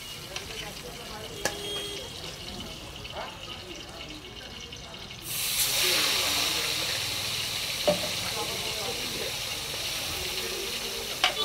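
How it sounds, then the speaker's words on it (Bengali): Pomfret and prawns fry in a pan at a cooking stall in the Digha fish market, a soft sizzle that jumps to a louder, hissing crackle partway through, with occasional clinks and talk nearby. "এইদিকে পমফ্রেট ভাজা হচ্ছে, এইদিকে চিংড়ি ভাজা হচ্ছে"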